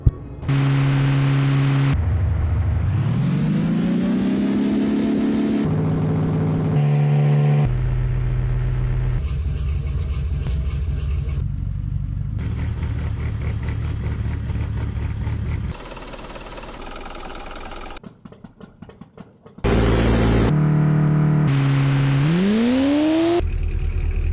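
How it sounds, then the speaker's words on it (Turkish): A synthetic car engine in a mobile car-modding game revs up and down repeatedly, rising pitch sweeps and steady tones shifting between different selectable engine sounds, loud and continuous. "Motor sesleri var. Motor sesi değiştirebiliyoruz."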